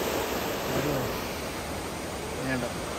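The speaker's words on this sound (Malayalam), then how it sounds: "അപ്പോൾ അത്യാവശ്യം നല്ല ഫോഴ്സിലുണ്ടോ വെള്ളം കയറുന്നത്" River water rushes forcefully over a weir near Ezhattumugham, a loud, dense, continuous roar with faint voices underneath.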